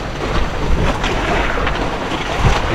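Big ocean waves around a small boat in a storm at sea, a loud continuous rush of water and wind buffeting the microphone, with heavier surges.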